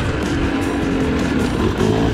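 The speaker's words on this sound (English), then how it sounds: "Struck all over again by what an incredible machine these old YZs are." An old Yamaha YZ dirt bike roars loud and close around a small arena cross track, its two-stroke engine held in a steady, harsh drone without letting up.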